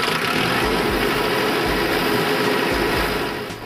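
A generator engine drones at an even idle, a low rumble with a constant mechanical hum, close and loud throughout without any voices.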